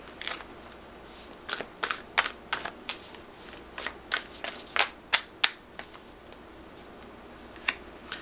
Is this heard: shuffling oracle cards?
yes